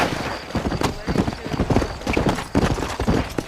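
Rapid clip-clop of horse hooves at a trot in Red Dead Redemption, rhythmic and close, mixed with game sound effects and a voice talking over it.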